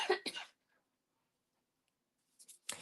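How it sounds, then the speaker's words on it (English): A person coughs in a quiet room during a paper pumpkin craft session, a couple of harsh, close coughs at the start, then silence, then a few more short coughs and throat clearing at the end. "I'm sorry, I'm gonna have a coughing fit here."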